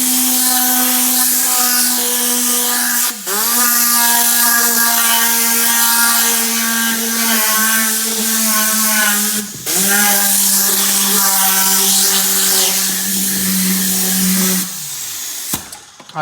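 Air compressor on a truck blowing air through a quick connect, a loud whining hiss with a strong pitched tone that cuts out briefly twice and restarts before stopping.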